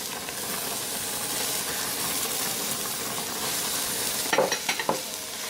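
Celery, mushrooms and peppers sizzle steadily in a hot pan, a continuous close frying hiss with a few louder clicks of stirring near the end; no one speaks.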